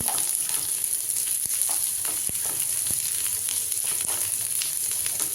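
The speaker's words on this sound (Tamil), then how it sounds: "இப்போ பச்சை மிளகா வெங்காயம் இதிலே போட்டுக்கிறேன் பாருங்கள்" Green chillies and onions fry in hot oil with a continuous close crackling sizzle and occasional soft ticks and pops as they soften.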